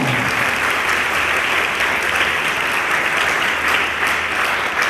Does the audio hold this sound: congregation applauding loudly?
yes